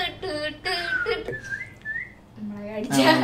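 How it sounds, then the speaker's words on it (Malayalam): Shrill, melodic whistling of the Valimai whistle theme by Yuvan Shankar Raja, rising and sliding notes in short phrases, close and loud, with a voice breaking in near the end. "വിസിലില് വിസിലടിയാണ് മൊത്തം"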